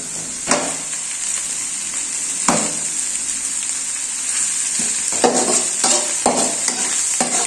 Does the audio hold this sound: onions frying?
yes